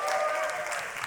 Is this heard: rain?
no